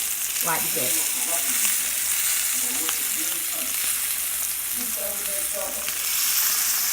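A T-bone steak fries in a pan with a steady, close, loud sizzle that fills the whole clip, while a person talks briefly over it.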